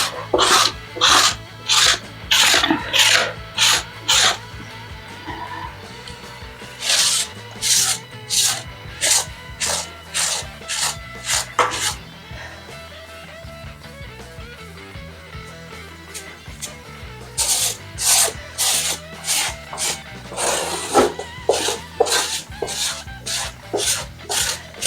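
A hand tool scrapes and shaves down ready-made shower grout in repeated rasping strokes, close and loud, in fast bursts separated by short pauses.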